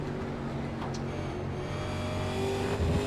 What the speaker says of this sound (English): Classic Ford versus Chevy battle here in the stock cars.